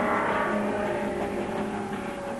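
Green Lamborghini Espada sports car engine running steadily at a loud, close level with a continuous droning tone throughout, no voices.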